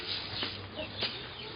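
Farm chickens cluck softly in short, scattered bursts against a low, steady background hum.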